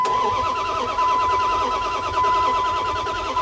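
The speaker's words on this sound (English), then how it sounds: "I'm gonna see what it does when I crank it." A car engine turns over continuously with a steady mechanical churn, failing to catch and run after a new PCM was installed, heard close and loud with no talking.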